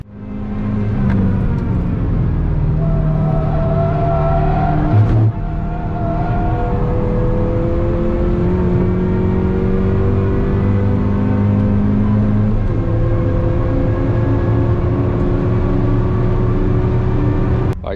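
A Ford Fiesta ST lapping Castle Combe race track, its engine droning loud and continuous from inside the car as it revs up and down through gear changes, with no talking.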